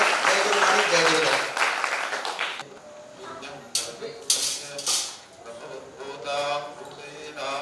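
Dense audience applause welcoming a guru at a religious gathering, a loud burst of many hands that fades into scattered claps, with a voice speaking over it.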